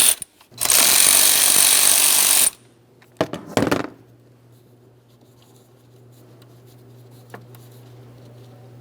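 A power tool works the 10mm mounting nut on the alternator of a 2004-2008 Ford F-150 5.4L V8 in one loud, steady two-second burst, followed by a few sharp metallic clicks and a quiet background hum.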